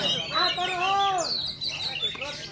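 Kacer magpie-robin songbirds singing at a bird-singing contest, loud close rising and falling whistled phrases and chirps packed together over a steady low crowd murmur.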